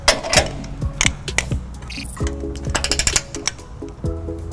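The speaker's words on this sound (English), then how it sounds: "Let's go ahead and tighten this guy down." A ratchet and socket on a 5-inch extension snug down the trailer hitch bolts on a 2014 Lexus GX 460, giving loud, close, rapid clicking bursts with short pauses between strokes.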